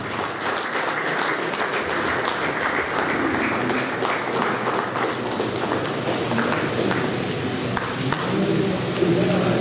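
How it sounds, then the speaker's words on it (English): An audience at a Darjeeling Hill Marathon event applauds loudly and continuously, a dense wash of clapping from many hands that holds steady throughout, with a few cheers mixed in. "I think that needs a big round of applause for Darjeeling Hill Marathon."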